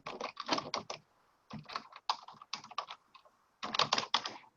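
Close typing on a computer keyboard comes in rapid clusters of key clicks, separated by brief pauses, crisp and nearby with no talking.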